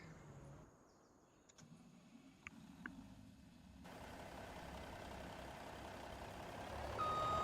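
An old International tractor backs up to a trailer on a farm, its engine running steadily and growing louder and closer toward the end, with faint mechanical clanks and a brief high beep early on.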